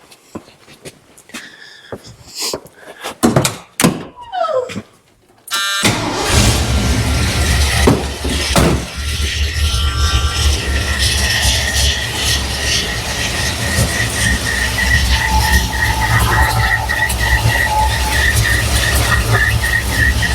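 An old Dentside Ford truck engine during a tune-up: a few scattered clunks and clicks, then the engine catches and holds a loud, steady, rough idle at close range for the rest of the stretch.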